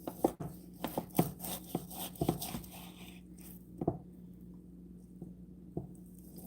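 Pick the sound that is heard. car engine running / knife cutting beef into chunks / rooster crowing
knife cutting beef into chunks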